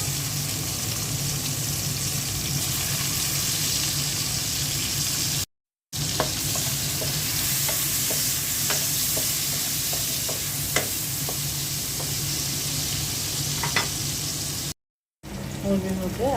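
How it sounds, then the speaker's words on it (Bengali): Onions frying in leftover fish-frying oil for a rohu curry with potatoes, a steady dense sizzle with occasional stirring clicks, close and continuous, briefly cut out twice. "মাছ ভাজা তেলের মধ্যে পেঁয়াজ দিয়ে দিচ্ছি।"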